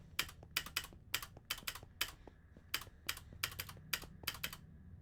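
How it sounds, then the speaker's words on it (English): Loud clacking of a mechanical keyboard, with rapid bursts of keystrokes in uneven clusters and quick pauses between them, close and crisp over a low background hum, no voice. "My mechanical keys are rather loud."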